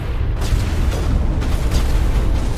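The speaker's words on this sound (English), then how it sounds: "Oh! Citadel defense turret." Loud, continuous booming and rumbling from a Citadel defense turret firing in the video game Mass Effect, with heavy low-end blasts rolling over one another without a break.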